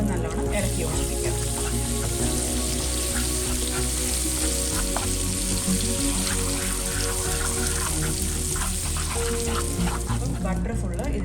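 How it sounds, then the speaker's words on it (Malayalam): Butter stirred into melted sugar in a pan for caramel sauce sizzles and bubbles steadily and loudly throughout, with a spoon scraping and stirring close by. "അത് നല്ലോണം ഇളക്കി യോജിപ്പിക്കാം."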